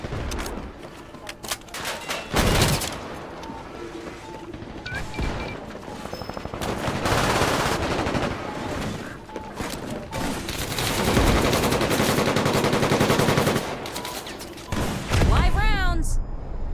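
Video game gunfire: dense, loud bursts of automatic weapons and overlapping single shots, with booming impacts and a voice talking over the continuous firefight.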